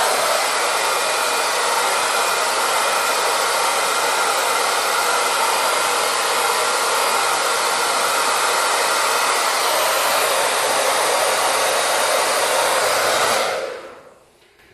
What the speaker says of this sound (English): I'm going to actually take this on medium-high heat, medium velocity, put that directly on my beard, and I'm going to swirl it around